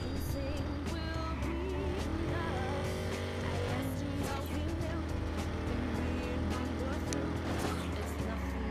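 A muscle car engine roars continuously in the video game Watch Dogs, throbbing and rising as the car drives, with a voice talking over it throughout.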